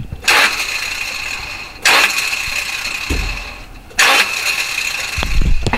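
A car engine cranks in repeated bursts, a starter whirring loudly for a second or so each time, with pauses between attempts and no catch.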